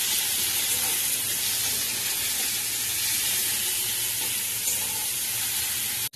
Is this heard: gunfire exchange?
no